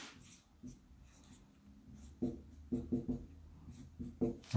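Chalk or marker strokes on a board during a physics lesson, a series of short scratchy taps and swipes, irregular and fairly close, growing busier toward the end.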